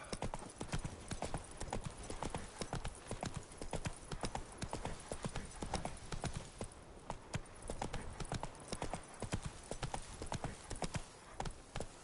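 Roach, a horse in The Witcher 3, gallops with rapid, rhythmic hoofbeats that continue without a break, close and loud throughout.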